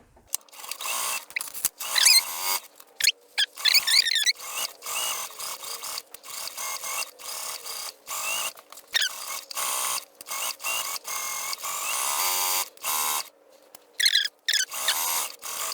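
A sewing machine stitches a Christmas stocking at a half-inch seam allowance, running in short, repeated bursts of whirring with brief pauses between them, close and fairly quiet.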